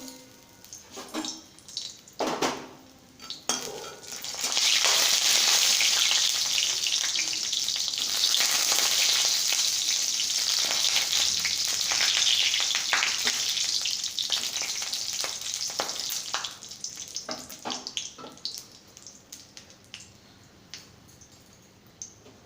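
Lentil dumplings (bori) fried in hot oil, a loud, dense crackling sizzle that swells after a few scattered pops, holds steady for about ten seconds, then eases off into lighter spatters.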